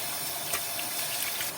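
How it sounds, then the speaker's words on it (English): Tap water runs steadily while a whole sea bass, scaled and gutted, is rinsed under it; a continuous close hiss and splash with small surges, no voices. "wash sea bass."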